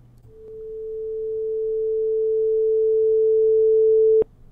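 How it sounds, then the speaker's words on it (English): A steady pure resonance tone holds a single pitch and swells gradually louder over about four seconds, then cuts off abruptly with a click. "And so as expected, we get this gradual increase in the loudness of the sound with time."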